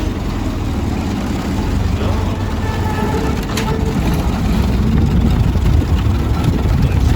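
A vintage car engine pulls away in first gear, a steady low rumble that stays fairly loud and even throughout, with no talk over it.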